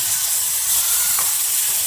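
Yogurt hitting a hot tempering of mustard seeds, cumin, asafoetida and turmeric, a steady close hiss of sizzling steam with no speech.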